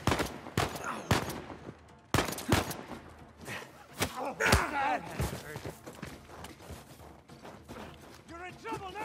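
Uncharted 4 combat gunfire with sniper fire, several loud sharp cracks spaced irregularly across the clip, each with a brief echoing tail, mixed with shouted voices and battle noise.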